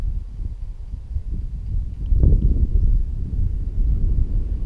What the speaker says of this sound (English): This is some pretty decent wind